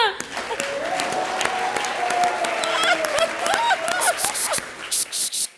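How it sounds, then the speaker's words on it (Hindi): Studio audience applause on an Indian TV comedy show, loud dense clapping with a musical sting playing over it, then tapering into a few separate claps at the end. "बुलाते हैं अपने आई मीन दूसरे कंटेस्टेंट को। जोरदार तालियां।"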